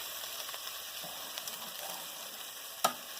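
Beef sizzles steadily in a pan as its fat renders off, a soft continuous frying hiss with a single sharp clink near the end.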